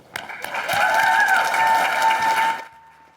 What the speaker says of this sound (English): join me in a round of applause as we welcome our panelists to the stage